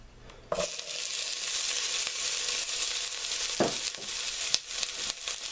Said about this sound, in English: The oil should be good and warm now, so we'll go ahead and add in the peppers.